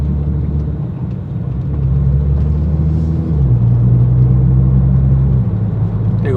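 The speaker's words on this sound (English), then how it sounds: "There we go, 10 mile an hour, I'm already up in 3rd gear." A 640bhp Nissan GTR on air ride accelerates hard through the gears, its deep engine rumble rising steadily with a shift near the midpoint, loud and close with no talk.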